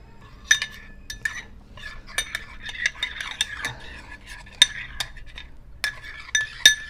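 A metal spoon stirs and clinks against a bowl while a spoonful is added to a homemade skin-lightening face mask mix, with a run of sharp, close ringing taps and scraping strokes, no talk.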